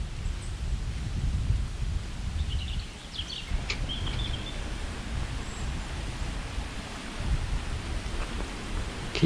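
Steady rain falls on a wet, misty walk around Upper Roddlesworth Reservoir, a constant soft hiss of drops with a low rumbling wash underneath and a few faint distant chirps.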